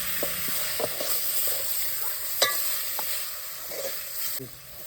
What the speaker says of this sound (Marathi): आता हे मटण त्याच्यामध्ये टाकून देते आणि खालवून घेते.